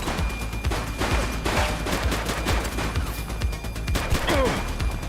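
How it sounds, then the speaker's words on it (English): Dense, continuous gunfire rings out in a police shootout from the video game The Precinct, with overlapping rapid bursts and single shots, loud and close, plus brief impacts and a faint voice beneath the firing. "She's shooting!"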